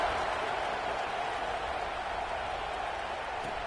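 Steady broadband crowd roar from a football video game stadium, a constant wash of cheering held at the same level throughout with no distinct peaks, like a distant packed crowd.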